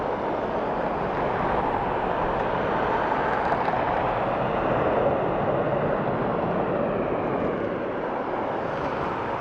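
A passenger airliner touching down at Dublin Airport gives a steady, broad roar of engine and rushing air that holds at an even loudness throughout, with no talk.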